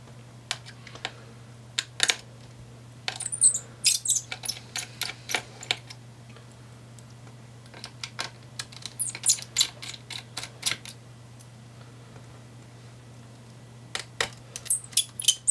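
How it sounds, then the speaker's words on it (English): Small screws being undone on the heatsink of an Acer Predator Helios PH317-52 laptop: scattered light clicks and ticks from a screwdriver in irregular bursts, close and fairly quiet over a steady low hum. "we are going to remove the three screws here and four screws here that hold down the heatsink"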